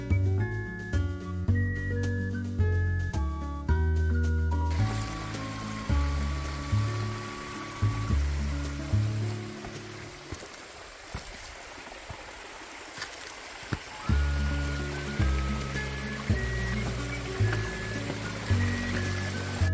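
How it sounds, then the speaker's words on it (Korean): Clear mountain stream water flowing down a valley on a Bukhansan trail, a steady soft rush heard beneath prominent background music throughout. "계곡을 따라 흘러내리는 시원한 맑은 물소리가 청량감을 주고 있습니다."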